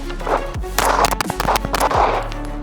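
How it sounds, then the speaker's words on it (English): MAC 9 pistol firing rapid shots in a bill drill at an outdoor range, several sharp loud reports in quick succession, close to the microphone. "These are the real first shots I've put on it today."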